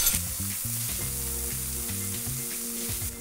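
Sot-l'y-laisse chicken pieces sizzle steadily while stir-fried for about three minutes in clarified butter in a hot pan, a close, continuous frying hiss with faint stirring taps and no voices.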